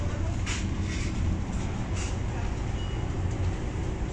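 Steady, dense rumble and rolling hum inside a fast passenger train cabin on a long 500 km trip, with a continuous low roar and faint rattles and no voices standing out.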